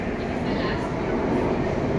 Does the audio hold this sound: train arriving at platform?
yes